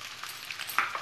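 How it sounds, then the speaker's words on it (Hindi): Spiny gourd fry with salt and turmeric powder is stirred in a pan, a soft sizzle under a few faint scraping strokes of the spoon, close and quiet. "और इसे अच्छे से स्टर कर लेंगे।"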